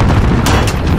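A grenade explosion in Modern Warfare 2019 booms loud and close, a sustained crackling roar with sharp bursts riding on top, filling the moment without any speech.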